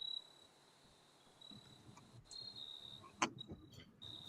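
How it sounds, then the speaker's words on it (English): Crickets chirp at dusk in a thin, steady high trill, faint and distant, with a few soft rustles and a brief clatter partway through. "Are those like your crickets, Jen?"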